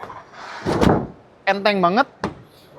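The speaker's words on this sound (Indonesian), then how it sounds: "pintu geser" Sliding side door of a Farizon V8E electric cargo van rolls open with a close whoosh and rumble, while someone speaks briefly between the door movements.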